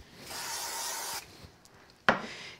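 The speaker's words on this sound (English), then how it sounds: "We're just going to give it a light spray." A brief hissing spray of mist from a spray bottle onto a stack of craft cards lasts about a second, followed by a faint rustle and a sharp tap against a surface.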